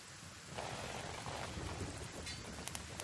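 Steady hiss of acid rain falling in the Kenshi game world, a continuous wash with faint crackles and a few brief sharper patters near the end, moderately quiet throughout.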